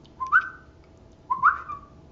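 Two short whistled notes, each sliding upward in pitch, about a second apart, clear and close with no talking.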